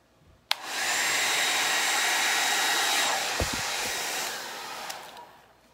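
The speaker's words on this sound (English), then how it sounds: "It's been a while since I used the blow dryer or hair dryer" A hair dryer switches on with a click and blows steadily over acrylic pour paint with a loud, broad whooshing roar, a few handling knocks partway through, then winds down at the end.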